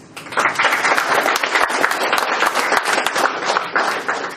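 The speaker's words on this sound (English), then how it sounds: "Give an applause." A Toastmasters educational session audience breaks into dense, sustained applause, many hands clapping loudly and continuously for over four seconds with little talk.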